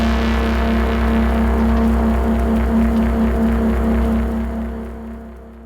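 Synthesizer sci-fi bass pad patch with chorus turned fully up, reverb and LFO modulation: a dense, droning low tone with a steady wavering pulse, sustained alone and fading away at the end.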